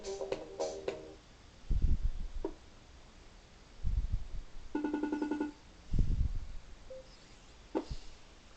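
A phone ring sounds once through a QCC3008 Bluetooth audio module wired to an Arduino after a redial. It is a short, bright, tonal burst set between a few dull thumps and clicks over a steady background hiss.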